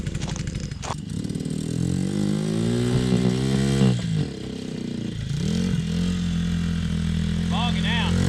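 A Coleman AT125UT ATV fitted with a swapped engine revs up and bogs down, its loud, close exhaust note rising and sagging repeatedly while people talk over it.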